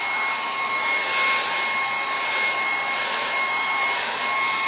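A hair dryer runs steadily close by with a constant airy whine, drying a greenish wood stain background on a sign board, with no talking.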